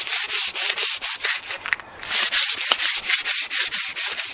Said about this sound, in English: So my recommendation is give them a good sand from period to time.